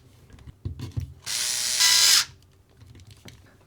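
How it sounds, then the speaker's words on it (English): An electric screwdriver drives a screw in to refit the bumper on a Kyosho Optima Mid RC car, one short close whir lasting under a second between a few light clicks and handling taps. "And then we just need to get the two final screws in."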